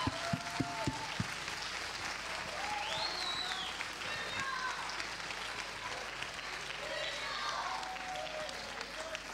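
Steady crowd applause at a FIRST LEGO League robotics awards ceremony fills the space, with a few sharp individual claps early on and faint voices mixed into the wash of clapping.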